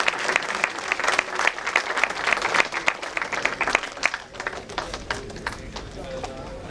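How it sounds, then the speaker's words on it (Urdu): A large audience at an Urdu conference celebration applauds steadily, dense clapping sustained throughout at moderate distance, with some voices underneath. "آپ لوگ زوردار تالیوں سے استقبال کریں"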